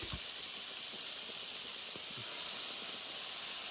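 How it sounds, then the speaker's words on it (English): Food searing in a hot pan at a campsite in the Uintas, a steady broadband hiss of sizzling fat holding level throughout with a few faint low knocks underneath, no voices. "Give these a quick final sear, and then we'll throw everything else in"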